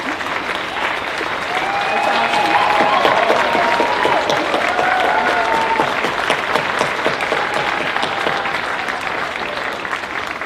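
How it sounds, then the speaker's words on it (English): A large audience at an athletic recognition ceremony applauds standing Hall of Fame members, with dense, sustained clapping that swells and holds for several seconds, with faint voices mixed in. "give them a big round of applause"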